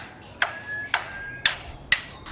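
A 30-year-old lyrebird named Chook mimics a hammer: four sharp, ringing knocks struck at an even, steady pace about half a second apart, close and clear over a quiet background.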